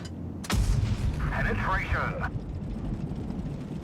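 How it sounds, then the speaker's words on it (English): A tank gun in World of Tanks Blitz fires a sharp heavy blast with a rumbling tail and a whirring mechanical tone after it, while someone talks over the action. "we are able to dump our full clip onto him and destroy him"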